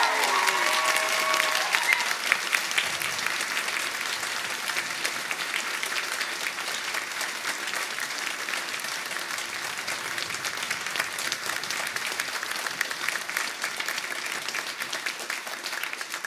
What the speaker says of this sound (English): she deserves the hugest round of applause